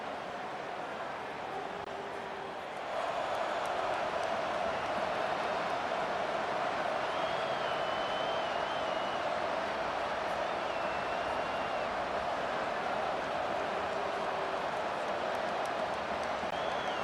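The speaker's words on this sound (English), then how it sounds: "This crowd trying to show them what it's going to be like all day in this house." Stadium crowd cheering in the EA Sports College Football 25 video game, a steady, distant roar of a large home crowd that swells after a few seconds, with faint whistles over it.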